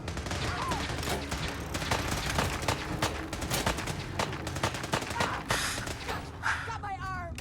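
Battle gunfire in Fallout 4, Brotherhood of Steel fighting the Railroad: dense rapid volleys of shots crackling throughout, with mechanical clanks and shouting voices mixed in.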